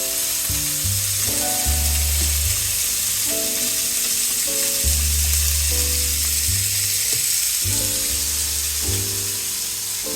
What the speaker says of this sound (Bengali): আস্তে আস্তে করে এগুলোকে একটু ওলট পালট করে ভাজতে হবে এবং বেশ একটু কড়া করে ভাজবেন।